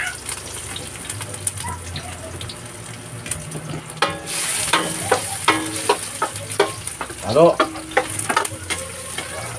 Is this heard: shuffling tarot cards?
no